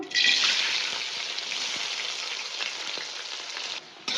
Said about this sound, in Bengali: এবার আমি বিনসটা দিয়ে দেবো ভাজার জন্য